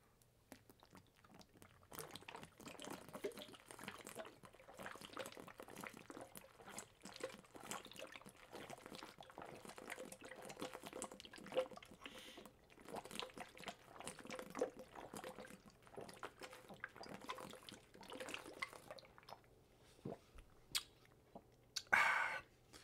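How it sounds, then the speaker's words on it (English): Someone drinks water in gulps and sips for about twenty seconds, with soft swallowing and mouth sounds close up, a brief louder clink or splash near the end. "drink some water in your honor for your birthday"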